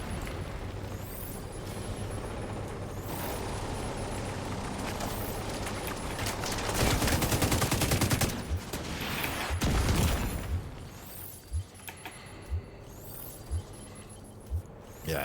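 Rocket barrage firing from an enemy in a sci-fi video game, a dense roaring burst of launches and blasts building to a loud peak mid-clip, then several short sharp impacts over lingering rumble.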